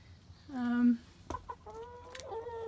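Backyard chickens, including a rooster, near their coop: a loud drawn-out squawking call, then a sharp peep and softer, lower clucking chatter close by.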